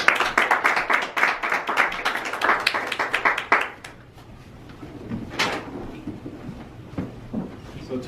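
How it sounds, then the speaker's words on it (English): Audience claps briskly for a speaker at a Toastmasters club meeting, a burst of applause that fades out after a few seconds, leaving scattered faint sounds and room noise. "let's give him a warm round of applause as he steps up to the lectern"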